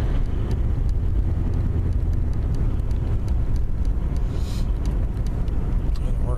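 Engine of a 1974 Plymouth Valiant with automatic transmission heard from inside while driving, a steady loud low drone with road rumble and a faint rise in revs as the gear shifts, with a voice speaking over it.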